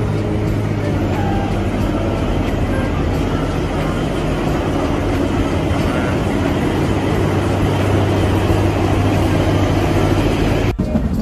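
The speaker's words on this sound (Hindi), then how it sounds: "हमारी ट्रेन चल चुकी है शिमला से" The Shimla toy train running at night, a loud continuous low rumble and rattle of the narrow-gauge carriages heard from on board, steady throughout with a brief break near the end.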